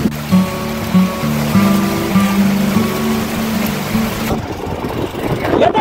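Steady rushing floodwater flows loudly and continuously beside a road in Pandharpur after heavy rain, with a low engine-like rumble and faint tonal hum underneath, turning rougher and splashier toward the end.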